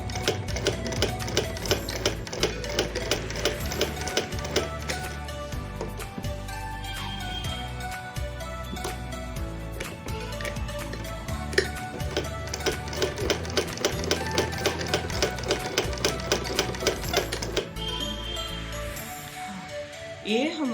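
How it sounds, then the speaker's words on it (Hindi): A sewing machine stitches a cloth pad in a steady, rapid mechanical clatter, close and continuous for most of the span before slowing near the end, with speech faintly present. "ये हमारा पूरा ये कंप्लीट सिलाई हो चुकी है"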